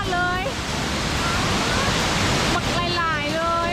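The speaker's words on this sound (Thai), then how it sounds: "น้ำที่ตกลงมาแบบนี้ พักดีเลย" A roadside waterfall in Xaysomboun, Laos, crashes as a continuous broad rushing roar, close and loud, while people talk over it.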